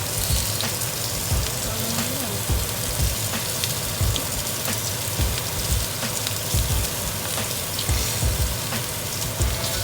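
Marinated lamb sizzles on a grill with a steady, dense crackle and hiss, and small pops scattered throughout.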